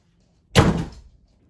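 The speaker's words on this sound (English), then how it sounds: "Dwayne the Boulder Johnson with the door slamming" A door slams once at home, a single loud, close thud with a short rumbling decay, surrounded by near silence.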